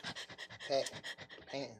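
A person imitates a dog panting, producing quick rhythmic huffs of breath, about a dozen short close bursts in steady succession.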